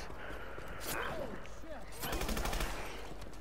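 A new gun firing in Advanced Warfare Exo Zombies, a short rapid automatic burst near the end, preceded by a single shot and game sounds, with faint talk in the background.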